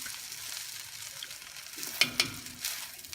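Vegetables stir-fried for pancit bihon give off a steady, close sizzle with a few sharp clinks of a utensil against the pan partway through.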